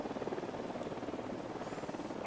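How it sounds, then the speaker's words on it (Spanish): Helicopter in the video game Ghost Recon Wildlands drawing nearer, a steady low rotor drone with faint rhythmic pulsing, fairly quiet and continuous with no talk. "Suena el helicóptero y no lo veo. Helicóptero acercándose."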